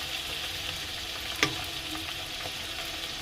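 Tomatoes frying in a pan with ginger paste, a steady close hiss of oil with one sharp crackle partway through.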